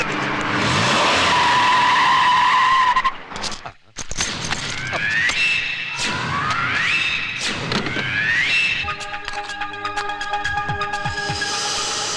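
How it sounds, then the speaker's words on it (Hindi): Taxi from Sahar airport skids to a stop, loud tire squeal sliding into a thud, followed by several shorter rising screeches and revving motor noise, with voices over it. "रोको रोको, ये तो सहार एयरपोर्ट की टैक्सी है।"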